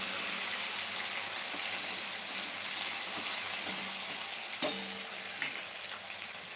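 Chopped raw potato fries in oil, giving a steady close sizzle with an occasional soft clink of a spoon against the pan.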